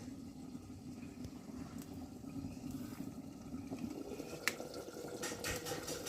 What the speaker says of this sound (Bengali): ফুটছে ঝোল।